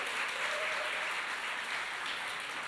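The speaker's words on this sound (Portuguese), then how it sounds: "Vamos aplaudi-los em nome de Jesus." A church congregation claps warmly to welcome first-time visitors, a brief burst of dense, even applause filling the room without any voices.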